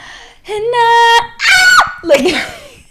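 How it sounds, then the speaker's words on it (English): A woman lets out several loud, high-pitched screams in quick succession, three shrill bursts with rising and falling pitch, close to the microphone and with no talk over them. "I'll just scream"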